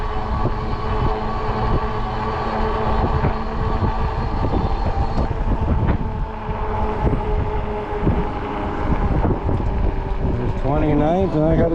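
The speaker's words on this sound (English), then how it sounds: "It's so quiet out here, except for the wind." Wind rushes and buffets steadily while riding a folding 20-inch fat tire Ecotric e-bike outdoors on a warm day, a continuous broad roar with a person speaking intermittently over it.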